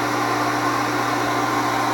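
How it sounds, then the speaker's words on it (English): A shop vacuum motor runs steadily with a constant hum and broad airy whoosh, unchanging throughout, with no talking. "So that's as loud as my vacuum is"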